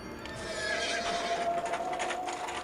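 Horses neigh and whinny over a clip-clop of hooves in the ancient Greek city-builder game Zeus: Master of Olympus, a steady bright whinny running through the whole stretch against busy game ambience.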